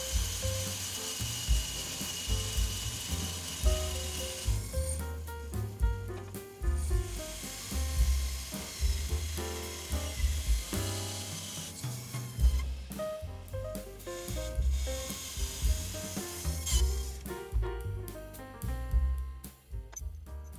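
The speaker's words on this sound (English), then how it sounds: "This 16-inch DoAll bandsaw is such a handy tool. It chops through aluminium in no time." An industrial 16-inch DoAll bandsaw cuts through aluminium in a machine shop, giving a fairly quiet, ongoing grinding hiss that swells and fades with the cut, with no voices over it.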